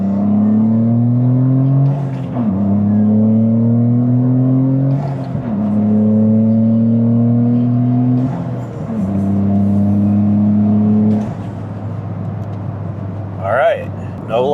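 A Toyota GR Corolla with a tune, running in normal mode on a highway, accelerates into boost. Loud in-cabin engine tones climb in pitch through several pulls, broken by brief shift dips, then ease off near the end.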